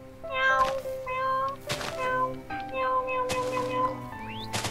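A cat in a Minecraft-style block-building game meows again and again, with several clear, close, drawn-out calls spread across the stretch and nothing else over them.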